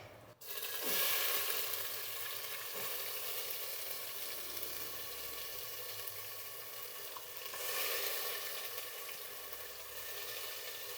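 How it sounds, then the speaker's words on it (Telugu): Ground masala frying in hot oil, a steady, close hiss of sizzling that swells when the paste is stirred and then settles into an even crackle. "మసాలా కొంచెం బాగా వేయించుకోవాలి."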